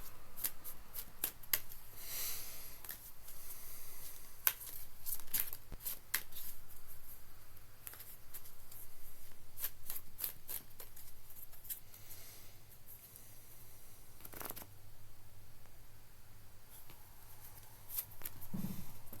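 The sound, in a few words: shuffling tarot cards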